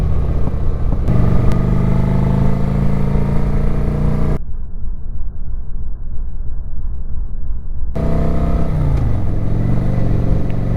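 Kawasaki Vulcan 900 motorcycle cruising near Kennedy Space Center in Titusville, Florida, with a steady close engine drone and road rumble throughout, briefly dulled in the middle and shifting pitch near the end as the bike changes speed.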